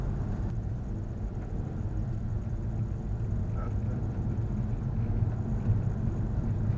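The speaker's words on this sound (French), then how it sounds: "là je suis en train de rouler sur une ligne droite, donc je suis à peu près à 50 km/h" Inside an automatic car cruising at about 50 km/h in fifth gear on a straight road, a steady low engine and road rumble runs continuously without change.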